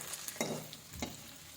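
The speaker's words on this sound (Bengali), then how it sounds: "অল্প আঁচে ভাজছি।" Semolina-and-milk pitha fries in a pan on low heat. Soft, quiet sizzling comes with a couple of brief stirring or turning scrapes over a short stretch.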